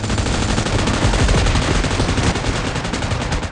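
Rapid automatic gunfire in the mobile game PUBG Mobile, a dense, loud, continuous burst of rattling shots with no pauses throughout.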